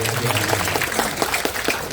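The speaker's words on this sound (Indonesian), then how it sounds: "Tepuk tangan dulu dong buat Bu Erna." An audience at a sales training session applauds, a dense burst of clapping that stays steady for the whole short moment.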